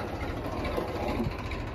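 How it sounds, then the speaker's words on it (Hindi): Massey Ferguson tractor engine running steadily in rural Jodhpur, a continuous low rumbling drone with no breaks, close and fairly loud, heard alone. "आराम से जा रहा है ट्रैक्टर उधर"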